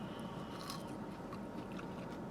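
Someone bites into and chews Wendy's fries. A soft, steady crunching and chewing sits close and low, with no talk.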